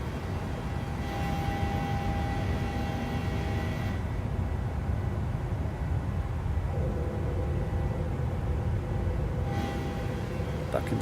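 A PMDG 737-800 jet in a flight simulator on its takeoff roll, a steady loud roar of engines with a broad rumbling hiss holding throughout, constant and close.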